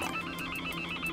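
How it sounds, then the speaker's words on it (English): A telephone in the Accounting+ video game rings with a steady, rapidly pulsing electronic trill, faint and unaccompanied. "The phone's ringing."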